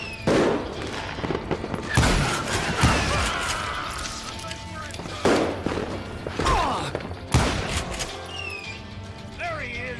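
Gunfire in the Western shooter Call of Juarez Gunslinger, with several loud separate shots and bursts spread across the scene amid echoing thumps, and a voice speaking between them.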